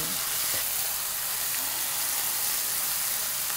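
Spice paste for a Bengali hilsa fish curry sizzles steadily in a hot pan during sautéing, a dense, even frying hiss lasting throughout with a faint clink near the start.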